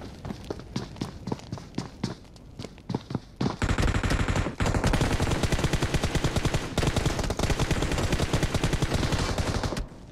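An M249 in a shooter video game fires in short bursts at first, then opens up into long, loud continuous automatic fire that lasts several seconds with only brief breaks.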